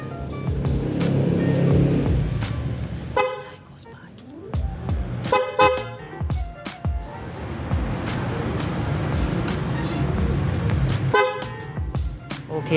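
A genuine Bosch horn fitted to a Yamaha Xmax 300 scooter sounds in several loud, brassy blasts, some short and some held longer, between stretches of idling engine rumble heard close by.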